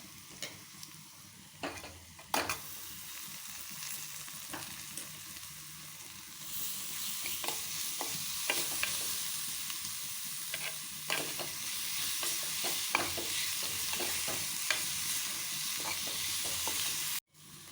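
Spices for a tempering for saag hit hot oil and erupt into a loud, steady sizzle that swells midway and keeps hissing, with scattered clinks and scrapes of stirring and no voices.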